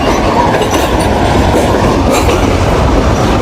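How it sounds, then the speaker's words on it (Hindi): A Pakistan Railways train on the Lahore to Peshawar line rolls slowly along the rails on a rainy day. The loud, dense rumble and clatter are heard up close and without a break, with no voices. "जिसकी वजह से ट्रेन को यहाँ पर रुकना पड़ा है और अब आहिस्ता आहिस्ता से आगे बढ़ रही है"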